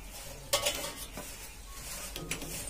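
Spices being mixed into ber (jujube) pickle by hand or spoon, with soft stirring scrapes and a few light clinks against a bowl, quiet and close, with no talking.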